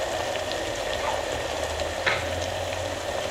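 Tomatoes sauté with turmeric powder in a pan for moru curry, giving a steady close sizzle and crackle of frying throughout with faint soft stirring.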